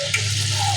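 Homemade ghee cooking in a pan, a short burst of soft bubbling sizzle with a low steady hum from the stove.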